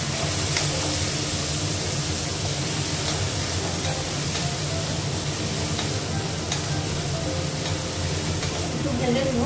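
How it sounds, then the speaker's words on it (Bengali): Onion, garlic, green chilli and peas frying in a pan over a raised gas flame, giving a steady, close, continuous sizzle with occasional stirring scrapes. "একটু ভেজে দিব পেঁয়াজটা আর মটরশুঁটিটা।"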